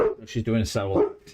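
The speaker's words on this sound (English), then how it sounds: "Please excuse the dog barking." A pet dog barks and whimpers loudly in a repeated, vocal run mixed with a person's speech, the animal's yips rising in pitch close by in a room while fireworks outside set it off.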